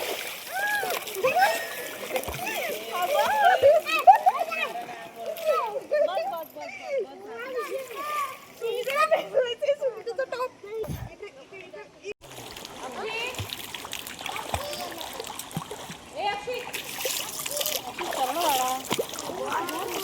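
Water splashes and churns near the Kondeshwar temple waterfall and river, with irregular bursts of splashing. Children's voices and adult talk run over it throughout.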